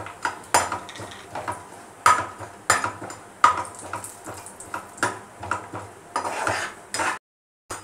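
Cashews frying in a pan for sweet rice-flake laddus, with repeated metallic scrapes and clinks of a spoon stirring against the pan over a low sizzle, close and steady, no talking.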